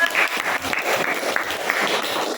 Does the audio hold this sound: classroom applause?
yes